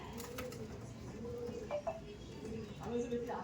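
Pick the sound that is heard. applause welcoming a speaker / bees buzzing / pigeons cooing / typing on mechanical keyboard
pigeons cooing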